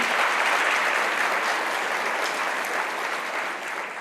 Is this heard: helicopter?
no